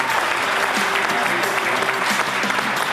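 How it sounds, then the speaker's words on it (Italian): A crowd at a youth sports team event applauds the parents, giving sustained, dense clapping at an even level while a voice speaks over it. "Facciamo un applauso ai genitori"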